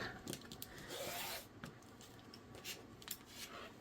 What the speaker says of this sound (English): And then I'm going to cut 1 binding strip.